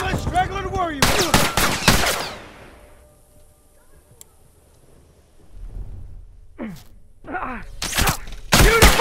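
Rifle fire in The Last of Us Remastered comes as a loud burst of sharp shots at the start, then a quieter stretch, with more reports near the end mixed with in-game voices.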